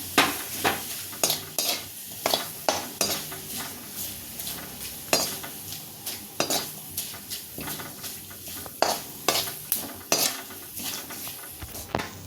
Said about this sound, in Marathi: आता मी दगडफूल तळतीये तेलात.